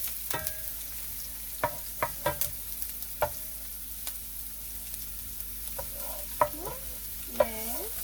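Ingredients for a pineapple chile habanero hot sauce stirring and frying in oil in a pan; a quiet, steady sizzle with scattered scraping clicks as they are moved about.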